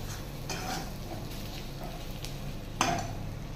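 Two kinds of chilli powder and spices fry in a pan for chicken biryani, stirred with a spoon: a steady, moderately loud sizzle with a few soft scrapes and one sharper clank near the end.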